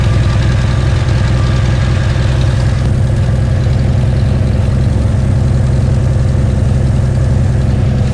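A cheap turbocharged six-cylinder engine runs steadily, a loud, close, continuous rumble with a rough low throb and faint whine above it.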